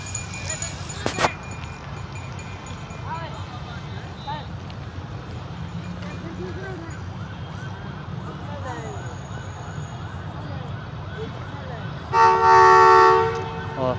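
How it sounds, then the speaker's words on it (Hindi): Low rumbling train and station noise at Drigh Road Railway Station, Karachi, continues for a while, then a loud, sustained horn blasts for about a second near the end as the Karachi Circular Railway train departs. "और हॉर्न दे दिया और रवाना हो रही है"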